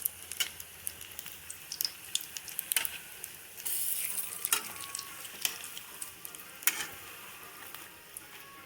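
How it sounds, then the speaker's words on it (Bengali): Flat bean pakoras frying slowly in oil over low heat, a steady faint sizzle broken by soft clicks and scrapes of stirring, with no voices. "ধীরে ধীরে ভাজতে হবে।"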